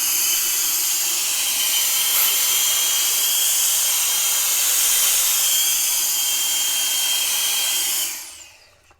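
A GOOLOO F1 compressed air gun, a 160,000 RPM electric blower, runs on its turbo setting. It gives a loud, steady high-pitched whine and hiss for about eight seconds, then spins down quickly at the end.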